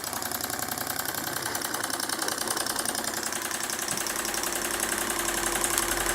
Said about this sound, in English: They are excellent little engines